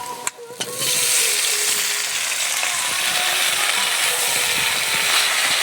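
Potatoes and malabar spinach sizzle steadily in hot spiced oil with garlic and chilli, a loud continuous frying hiss with occasional stirring scrapes and clinks of a spoon in the pan.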